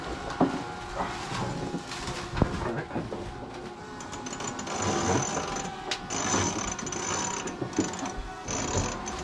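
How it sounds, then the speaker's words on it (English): A winch on a new Seawind catamaran being commissioned is cranked, giving a run of mechanical ratchet clicks and gear whirring at moderate distance, with faint voices in the background. "Rob, you pull with the winch?"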